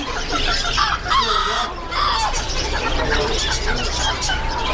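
Thai fighting roosters cluck and squawk repeatedly at close range over a busy, noisy poultry shop at Chatuchak market.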